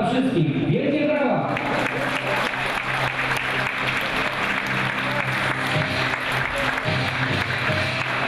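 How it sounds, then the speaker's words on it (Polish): Stadium crowd at a Polish football match applauding Special Olympics athletes, a dense, steady burst of clapping that starts suddenly and carries on loudly, with a voice over a public address system at the start. "Jeszcze raz dla wszystkich wielkie brawa!"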